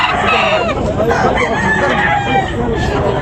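A rooster crows loudly over a noisy, busy background at a chicken market, with faint voices and other fowl clucking nearby.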